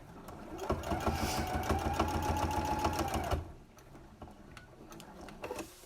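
A sewing machine with a quarter-inch foot stitches around the edge of a pleated fabric face mask, running in a fast, even mechanical chatter for about three seconds before stopping, followed by faint handling clicks.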